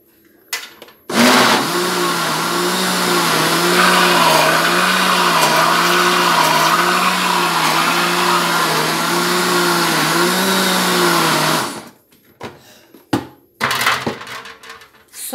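A kitchen blender runs for about ten seconds, mixing pie batter with baking powder for an open tuna pie, then stops, followed by a few light clinks and handling sounds.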